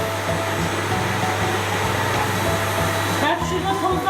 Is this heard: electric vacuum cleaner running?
yes